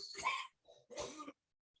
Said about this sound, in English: You okay? I hear you coughing.